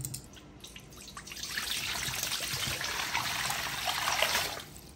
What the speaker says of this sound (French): Pour 2 litres d'eau